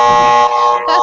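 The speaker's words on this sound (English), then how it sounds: "I was actually going with the game buzzer." A game show buzzer sound effect: a loud, harsh, sustained electronic buzz sounding alone for about a second, dipping slightly partway through.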